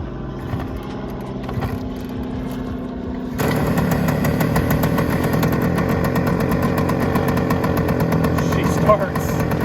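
A 1971 Suzuki TS185 two-stroke motorcycle catches and starts about a third of the way in, then settles into a loud, steady, buzzing idle close by, after a quieter stretch of lower mechanical noise.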